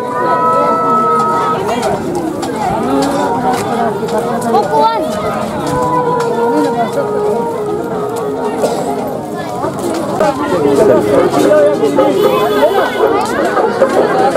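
Dense festival crowd at Neelkanth ashram on Janmashtami, a loud continuous babble of many voices and movement close around, with scattered shouts rising from the throng.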